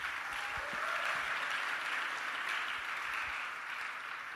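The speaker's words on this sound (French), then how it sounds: "Acclamons Jésus." A church congregation clapping in acclamation, a continuous wash of many hands applauding at moderate distance, fairly soft and even, without talk.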